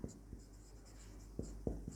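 Chalk or marker writing on a board during a physics lesson on electrostatic potential: a few quick tapping strokes and light scratches, near and soft, in a quiet room.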